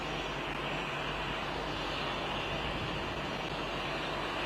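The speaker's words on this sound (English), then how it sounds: "The plane engines are too loud" Loud, steady jet engine roar from planes at Phnom Penh International Airport fills the whole stretch as a continuous broadband wash with no break and no voices.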